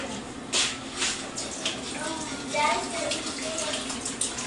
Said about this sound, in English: Pour some of that water out.